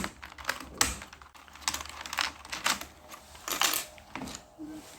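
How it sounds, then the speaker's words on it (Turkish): Keys being pried off a Logitech MK320 keyboard, giving a rapid, irregular run of sharp plastic clicks and snaps, close up and with no talk. "Şu tuşları bir ayıklayalım önce."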